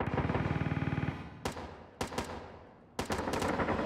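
Rapid automatic gunfire in the Due Process tactical shooter game, a steady burst of close shots for about a second, then a few separate loud reports with decaying tails.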